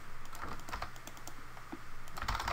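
Quiet, steady tapping on a computer keyboard while typing a chat message for a multiplayer browser game, soft close keystrokes over a faint background hum.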